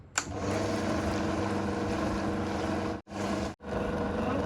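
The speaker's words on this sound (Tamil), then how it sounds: "நம்ம கிரைண்டர் போட்டு விட்டுறலாம்." A wet grinder's steady motor hum with a rumbling churn of batter runs continuously, dipping briefly twice near the end.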